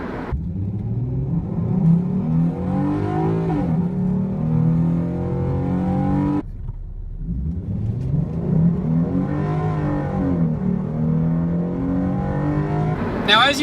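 A Ford Mustang running a Bama Performance tune accelerates hard twice. The engine note rises steadily as it revs through the gears, drops briefly between the two runs, and sounds close and loud.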